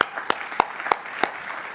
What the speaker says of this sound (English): So a round of applause for the amazing staff we have here at Foxwoods.